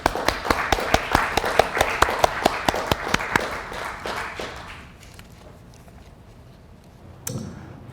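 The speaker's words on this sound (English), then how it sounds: "please welcome Professor Gooyong with a warm round of applause" Applause welcoming a professor to give a lecture: a handful of sharp, distinct claps in an irregular rhythm for several seconds, thinning out into quiet room tone with a brief thump near the end.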